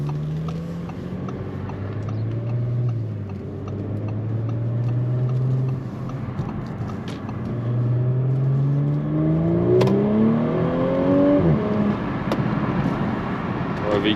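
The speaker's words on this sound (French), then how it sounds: "On a un retour à l'échappement qui est quand même très plaisant en mode dynamique." A 354-horsepower Audi S4 with a 3.0 V6 gives a deep, steady exhaust drone in dynamic mode, then the revs climb in rising sweeps toward the end under acceleration.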